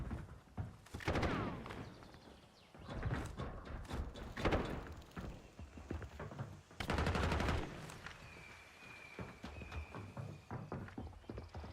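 Rapid automatic gunfire bursts from the Call of Duty: Warzone video game, loud and close, coming in clustered volleys with short pauses, plus clicking and a brief tonal beep near the end.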